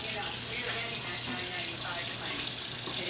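A shower runs indoors, its water hissing in a steady, even spray that is fairly soft and continuous throughout.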